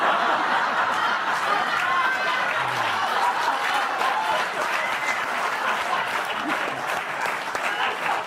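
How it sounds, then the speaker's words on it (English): Studio audience at a late-night comedy talk show applauding, a steady loud wash of clapping that holds for the whole stretch, with scattered cheers and a bit of laughter mixed in. "Oh, keep clapping."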